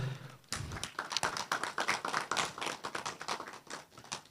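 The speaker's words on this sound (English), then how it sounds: "I think it deserves another round of applause." An audience at a business forum event applauds, a sustained patter of many clapping hands that starts abruptly and carries on steadily, fairly distant and soft.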